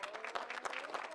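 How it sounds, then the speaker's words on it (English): Audience applause in a studio setting for a game-show episode reaction, a brief burst of dense clapping with scattered louder claps, fairly close and steady throughout. "Y'all clap it up for him."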